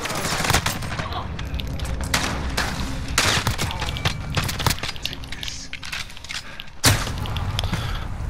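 Rapid gunfire in Call of Duty Modern Warfare while aiming down sights, dense repeated bursts of shots running almost continuously at close range, loud and dominant throughout.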